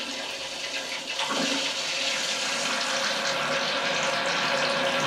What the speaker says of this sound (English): we'll wait for the toilet to fill and then we can flush it